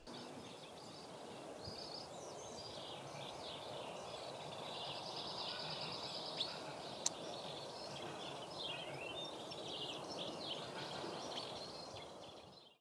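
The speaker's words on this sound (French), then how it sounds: "tous les petits oiseaux qui font leurs petits bruits et tout" Small songbirds chirp and trill in spring around a yurt, their faint, scattered calls repeating over a soft, steady outdoor hiss for several seconds with no talking.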